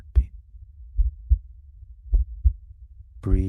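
A slow, steady heartbeat thumps as soft, low paired pulses in near silence, repeating about every second, with a brief tonal sound at the very end.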